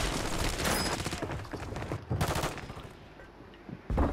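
Rapid bursts of automatic gunfire in an online shooter game, dense volleys from several weapons at once, loud and close, with brief pauses between clusters of shots.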